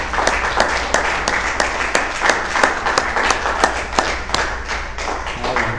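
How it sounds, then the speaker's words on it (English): Church congregation applauding the Lord during a morning worship service, a steady dense wash of many hands clapping with sharp individual claps standing out, fairly close and loud, sustained throughout without speech. "Let's give the Lord a round of applause this morning."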